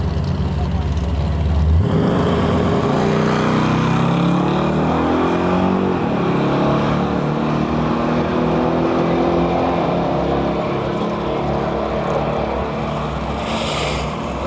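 Drag race cars run at Gainesville Raceway, a loud engine roar building sharply after a quiet start and rising in pitch as the cars pull down the strip, with a commentator talking over it throughout.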